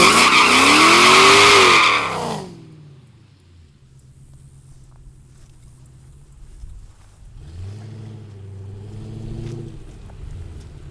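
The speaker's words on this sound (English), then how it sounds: "a bigger burnout, and try again." Mercedes E55 AMG burnout with a bolt-on setup at a drag strip in Mexico: a loud roaring engine with squealing tires for about two seconds, then it cuts off into a low idle before the revs rise again.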